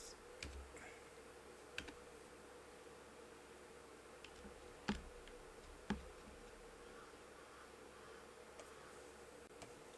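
Faint, sparse keyboard clicks tapping now and then over quiet background hiss, with a couple of slightly louder keystrokes.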